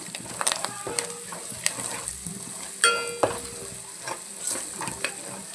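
A spoon stirs crab curry with curry leaves and turmeric in a pan, giving scraping strokes and light clinks over a faint sizzle, close and moderately loud, with no voices.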